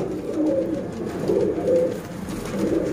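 Pure chap pigeons coo steadily and close by in a loft, with soft, rounded calls rising and falling in a continuous, overlapping rhythm.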